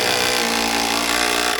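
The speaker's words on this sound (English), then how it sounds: "continuing to shoot the screws in there with her fancy jig" A power drill drives screws through a pocket-hole jig on a deck railing during a holiday home build, a brief, loud, steady whirring drone.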